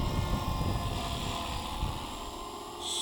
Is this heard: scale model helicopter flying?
yes